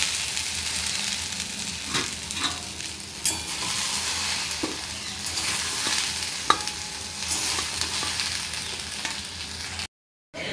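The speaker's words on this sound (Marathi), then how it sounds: "भेंडी आता आपली व्यवस्थित फ्राय झालेली आहे, भाजून झालेली आहे।" Okra sizzles in a hot pan while it is stirred, giving a steady frying hiss broken by occasional scrapes and clicks of the spoon, with a brief silent gap near the end.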